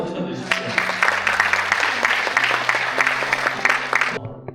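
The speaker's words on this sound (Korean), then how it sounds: "박수 한번 쳐주십시오" An audience at a forum on AI semiconductors in Yongin bursts into applause, a dense, fairly close round of clapping that holds for about three seconds and then stops abruptly, with a low voice speaking underneath.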